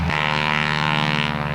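A Harvard aircraft's radial engine spools up at an airshow, a loud, close, sustained propeller drone with a strong steady harmonic buzz that starts abruptly and holds.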